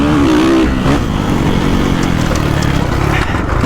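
A 2022 KX450SR or 2022.5 FC450 Factory Edition 450 dirt bike roars loudly and close up during a ride, its engine note rising and falling as it revs over rough ground.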